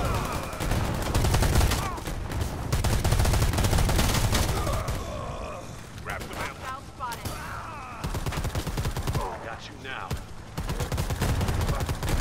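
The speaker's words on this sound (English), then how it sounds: "Sending payment now, we're still being shot at." Rapid automatic gunfire rattles almost continuously in the multiplayer shooter Predator: Hunting Grounds, loud sustained bursts with brief gaps, a minigun among the weapons.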